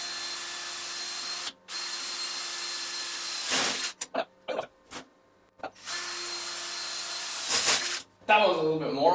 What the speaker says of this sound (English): starting off with a real big drill bit means it's going to take a while for this to start